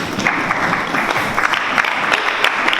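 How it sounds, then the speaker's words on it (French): A church congregation breaks into steady applause after a sermon on healing, dense continuous clapping from many hands filling the room for the whole stretch with no voices on top. "On acclame la parole de Dieu"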